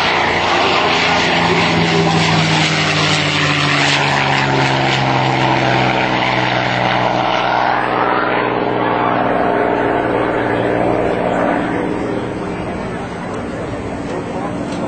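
P-51 Mustang and other WWII propeller fighters flying past at a warbird air show, with a loud droning piston-engine roar that sweeps in pitch as the aircraft pass, then fades.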